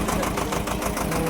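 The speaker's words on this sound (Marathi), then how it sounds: "आता आपण ट्रॅक्टरमध्ये चाललेलो आहे" A tractor engine runs steadily up close on a farm beside a polyhouse, a dense, continuous mid-pitched rumble with no break.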